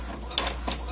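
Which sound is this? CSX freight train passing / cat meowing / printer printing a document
printer printing a document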